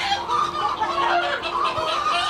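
Roosters and hens in a coop cluck and squawk in alarm after an eagle attack, a dense, agitated chorus of close, overlapping calls that runs on without a break.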